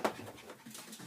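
A little dog whimpers and pants close by, opening with a sharp yelp-like sound and then making soft, breathy whines in an irregular rhythm, quiet and alone.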